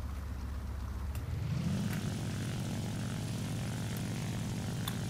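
Shiden Kai fighter plane in War Thunder, its piston propeller engine droning steadily and close, rising in pitch and loudness after a second and then holding an even, throbbing hum.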